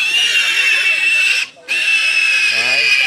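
A black pig at a hill-village market in Muong Khuong, Lao Cai, squeals loudly and continuously with a brief pause, close up, with talk in the background.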